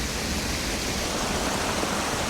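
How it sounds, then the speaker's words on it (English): A small spawning brook beside a Welsh spate river flows with a steady, broadband rushing wash, constant and fairly close, with no voices over it. "There's a small spawning brook there."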